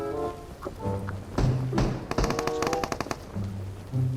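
Bursts of gunfire in PUBG Mobile, a rapid rattling volley in the middle between quieter in-game sounds, fairly close and loud.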